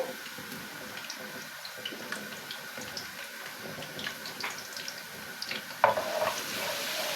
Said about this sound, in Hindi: इसे अच्छी तरह से जो है हम थोड़ा फ्राई कर लेंगे ताकि इसका कच्चापन निकल जाए और खुशबू आना शुरू हो जाए।